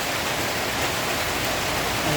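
Heavy rain pours down steadily in a dense, unbroken hiss, loud and close, as a flood-prone downpour strands people at a small eatery, with no voices over it.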